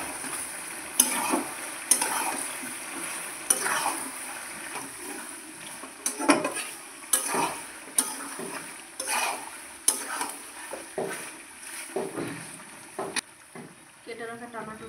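A spoon stirs chicken curry with cumin and coriander powder in a frying pan, giving repeated scraping clinks over a continuous sizzle, with some faint background talk.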